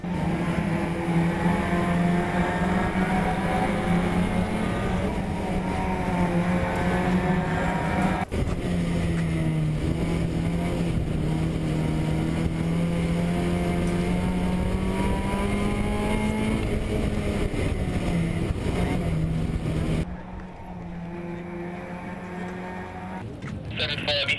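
Race cars lap the Ringwood Raceway circuit, engines droning with sustained, wavering pitch as they pass, loud and continuous before dropping away near the end.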